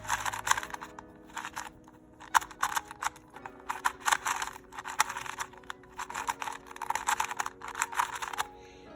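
A stiff, very tight Qiyi Qidi W 2x2 puzzle cube being turned: rapid, dense plastic clicking and clacking in quick bursts, close up and continuous, with no talk.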